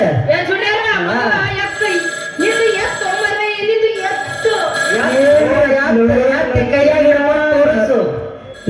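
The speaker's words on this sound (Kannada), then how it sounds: "ಅವಾಗಿಂದ ನಿನ್ನ ಫೋನ್ ಬಡ್ಕೊಳಕತ್ತಿತ್ತು" A phone ringtone plays a repeating melodic tune, fairly loud and close, while people talk over it.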